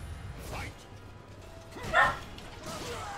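A dog barks in the background, with a sharp yelp near the middle and softer yips around it, while a person talks over it at a computer.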